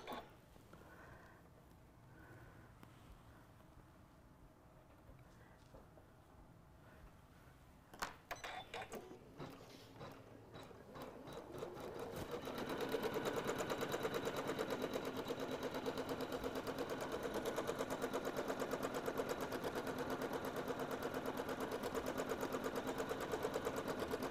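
A sewing machine starting to stitch an appliqué Christmas ornament, first a few slow stitches, then a rapid steady mechanical whir that builds and runs evenly for the second half, close up.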